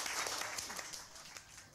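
A short burst of audience applause, a crowd clapping briskly and fairly faintly before tapering off, with a voice faintly under it.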